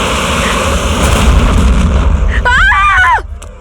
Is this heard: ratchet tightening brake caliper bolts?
no